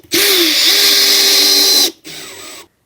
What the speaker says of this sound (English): set your drill speed to speed 1